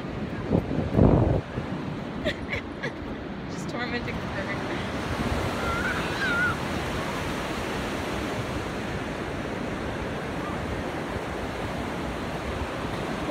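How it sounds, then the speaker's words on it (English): Ocean surf crashes and rolls in a continuous, broad roar at Monterey, with wind buffeting the microphone and a brief voice near the start. "Oh my gosh, look at these waves."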